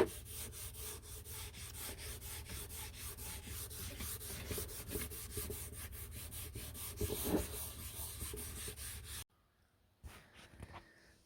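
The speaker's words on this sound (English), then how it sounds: "piece all scuffed down with the red Scotch-Brite" A red Scotch-Brite pad scuffs a plastic mirror housing in steady, rapid back-and-forth rubbing strokes, close and continuous before stopping abruptly near the end with a few faint handling sounds.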